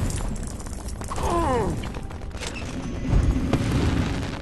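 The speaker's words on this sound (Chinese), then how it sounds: "又放烟花？" Fireworks-like explosions burst in the LEGO Harry Potter video game, a few booming blasts with mechanical rattling, loud and close, with no talk over them.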